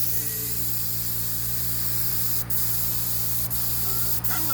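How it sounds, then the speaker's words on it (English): A big spray gun hisses paint onto an old aluminum jon boat, one long loud continuous spray with a couple of brief breaks near the end, close to the microphone. "a kind of like rattle canning with a really big rattle can"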